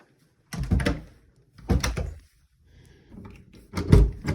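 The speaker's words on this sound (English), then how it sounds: "Door works." Several knocks and bumps come from a door in a house in Leadville as it is opened and shut, each sharp thud and rattle close and loud, separated by short pauses with a soft creak between them.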